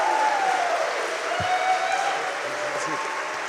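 Live audience at a podcast taping applauding and cheering a guest's entrance, a dense steady wash of clapping at full volume throughout, with a whistle-like tone threading through the crowd noise.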